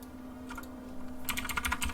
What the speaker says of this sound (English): I do a lot of typing and word processing.